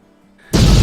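A sudden loud explosive blast bursts in after near silence and keeps roaring at full volume.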